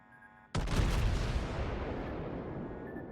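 Heavy high-explosive shell hits slam into a Fletcher destroyer during a World of Warships naval battle, one sudden loud boom followed by a long rumbling roar that slowly fades.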